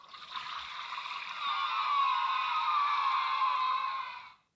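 A toilet flushes after its button is pressed, giving one continuous whoosh of rushing water that swells, holds for a few seconds and then cuts off abruptly, with no speech.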